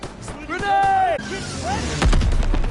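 A grenade detonates in a Call of Duty: WWII battle with a loud, booming blast near the end, after shouting soldiers' voices.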